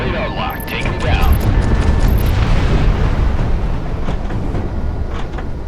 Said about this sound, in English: Explosions this close?